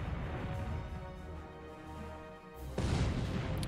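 A deep booming salvo of naval gunfire from the lead ship in War in the Pacific, a steady rumbling barrage that ends in a sudden louder burst near the end.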